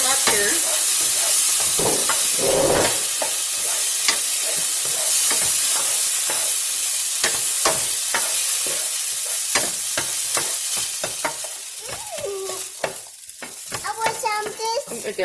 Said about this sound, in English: I'm going to go ahead and stir them up here.